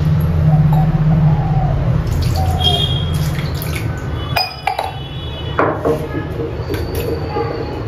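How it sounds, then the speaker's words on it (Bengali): Water splashes and runs over a stone grinding slab being rinsed after spice paste is ground, with clinks and drips against a steady low hum, fairly close. "এবার সিলটা ভালো করে ধুয়ে রেখে দেবো।"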